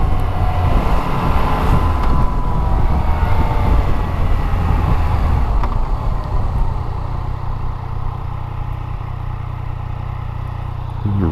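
A 2016 Yamaha XSR900 motorcycle being ridden at cruising revs, its engine a steady loud drone under rushing wind that eases slightly toward the end.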